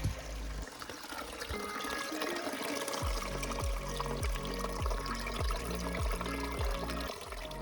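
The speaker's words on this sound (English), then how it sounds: "We've got a nice little flow here. So we're going to fill up all our bags and our bottles" Water from a small creek flow near Thielsen Creek on the Pacific Crest Trail pours into water bags and bottles, a steady trickling splash with low gurgling fill tones throughout, no talking.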